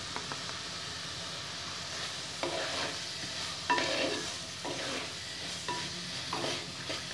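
Masala with salt and turmeric being stirred in a pan for drumstick sabji, a hissing sizzle with repeated scraping spatula strokes in irregular bursts, close and alone without speech.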